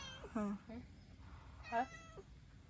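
A cat meows several times close by, two or three short mews followed by a louder one and a trailing cry, faint overall with people talking softly in the background.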